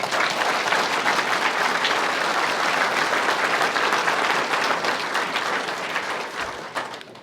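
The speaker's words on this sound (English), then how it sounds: "Let's give her a round of applause, please." A crowd at a local political town hall meeting gives a sustained, loud round of applause, many hands clapping steadily with a few cheers before it slowly dies down.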